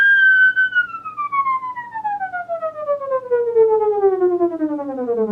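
A theremin glides downward in one continuous, fast chromatic descent, starting high and sliding smoothly lower over about five seconds with a bright, loud, siren-like tone and no other sounds.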